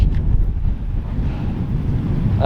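Strong wind buffets the microphone on a seaside jetty at the Eastney Outfall Pier, a steady low roar that rises and falls slightly and continues without a break, with no voices.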